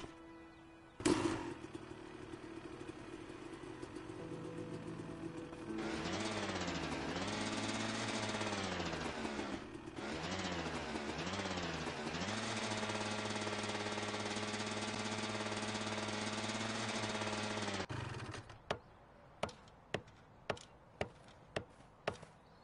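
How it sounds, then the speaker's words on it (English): Hammering on a sign in the video game A Way Out: a sustained droning, engine-like tone fills the middle, then roughly seven sharp, evenly spaced knocks ring out alone near the end. "I think I'm gonna need a hammer."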